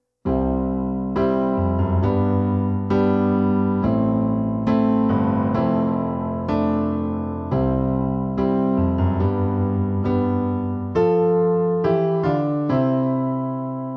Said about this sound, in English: We'll begin with the intro and verse sections,